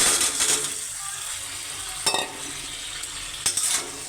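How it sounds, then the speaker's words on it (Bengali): Potatoes fry with fish pieces in a hot pan, a steady soft sizzle with a few scraping stirs and clinks of a spatula against the pan, no talking. "আলুগুলো দিয়ে বেশ খানিক আলুটাকে আমি কষাবো সুন্দর করে।"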